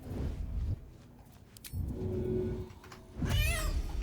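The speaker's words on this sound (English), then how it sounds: "Right, no, cat, come over here. Cat, you go there. Meow." Gale's cat in Baldur's Gate 3 meows a few times, short cries heard over a low game rumble, with a louder one near the end.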